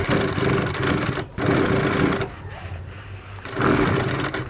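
A sewing machine stitching fabric for a ladies suit, running in a steady, loud mechanical whir with brief stops and restarts, close up and continuous, no talk over it.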